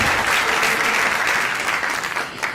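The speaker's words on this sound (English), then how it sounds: "Let's give ourselves a round of applause for that." Graduating students at a convocation ceremony break into dense, steady applause, many hands clapping together loudly and evenly throughout.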